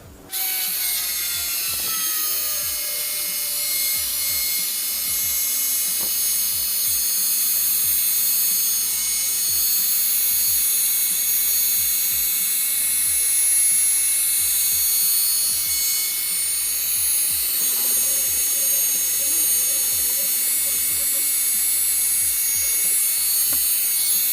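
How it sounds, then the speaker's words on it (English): A hot air gun blows steadily for a long stretch while warming a car headlamp so its sealant softens for resealing, a continuous whooshing hiss with occasional small clicks and handling noises, no talking. "Hot air gun for a good 5 or so minutes, just warming it all up to make it all nice and sticky"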